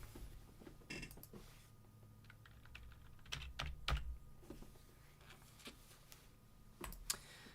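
Typing on a computer keyboard, with irregular clusters of light key clicks spread across the clip and a louder tap near the end, heard alone against a faint room hum.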